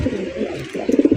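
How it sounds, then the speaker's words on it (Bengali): A pair of Kakji pigeons cooing nearby in a short burst of throaty, rhythmic coos that swell toward the end, heard alone with no talking. "একজোড়া কাকজি কবুতর"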